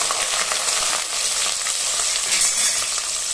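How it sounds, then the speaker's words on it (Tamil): Sliced onions frying in hot oil for a country chicken biryani, a dense, even crackling sizzle that holds steady throughout, close and fairly loud with no voices. "வெங்காயம் நல்லா பொன்னிறமா வதங்குற வரல வெயிட் பண்ணலாம்"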